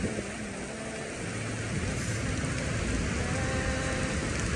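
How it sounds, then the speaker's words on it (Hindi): Rain pours at night during a cyclone in Karachi while a vehicle takes on diesel, producing a steady, dense hiss of drops on surfaces that runs throughout, fairly loud, with no talking. "पर ये बारिश हो रही है।"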